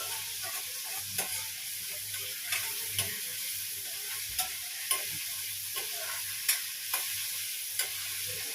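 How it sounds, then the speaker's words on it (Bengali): Spices with cumin powder fry steadily in a pan for dal, a constant bright sizzle broken by sharp ticks and scrapes from stirring, with no one talking. "মশলার মধ্যে জিরে গুঁড়ো অ্যাড করেছি এটা ভালো করে কষাতে হবে"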